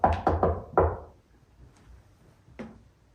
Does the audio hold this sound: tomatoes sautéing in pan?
no